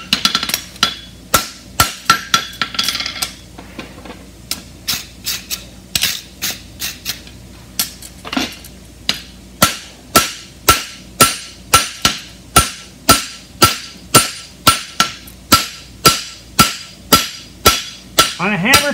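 Steady metal hammer blows flattening a horseshoe for a European hind barshoe ring out close by, sharp and regular, a long run of strikes with brief pauses between bursts.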